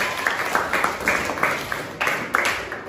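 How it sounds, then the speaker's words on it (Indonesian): Students in a classroom give a short round of applause, a soft, uneven patter of many hands clapping at moderate distance that lasts a few seconds. "Oke, tepuk tangan."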